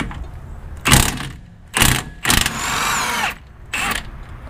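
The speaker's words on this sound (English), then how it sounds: "use an impact gun" An impact gun works the 17 mm rear strut bolts on a 2003 Mazda Protege in four loud, rattling bursts of varying length, separated by short pauses.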